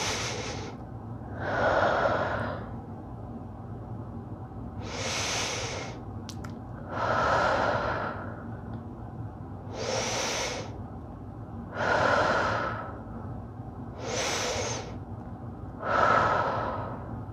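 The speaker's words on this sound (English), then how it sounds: "Let's take some deep breaths." Deep breathing while lying in a yoga relaxation pose: slow alternating inhales and exhales, about eight breaths in all, close and steady, each breath soft and airy with a quiet background hum.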